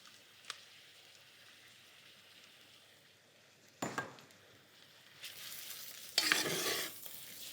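Finely sliced mushrooms sauté for a Portuguese rice dish, a quiet, steady sizzle broken by a few sharp utensil knocks, then a louder spattering burst near the end.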